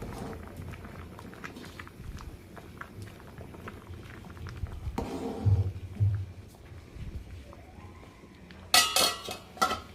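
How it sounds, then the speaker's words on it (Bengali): Vegetables with aubergine and greens being stirred in a cooking pot over gas, soft scraping and clinks of a utensil against the pot, with a louder stir midway and sharp clattering near the end. "এবারে সবজিটাকে ভালো করে নেড়ে দেবো"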